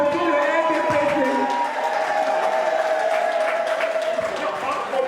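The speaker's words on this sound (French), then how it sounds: "Est-ce que nous pouvons encore applaudir le RDPC?" Crowd at an RDPC political rally applauding and cheering, a dense, steady wash of clapping and voices that stays loud for the whole stretch, with a tonal voice or music line running through it.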